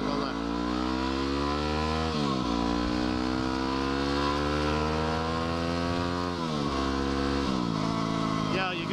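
WR motorcycle engine heard while riding, a loud close drone with the pitch climbing through the gears and dropping at each shift, running continuously throughout.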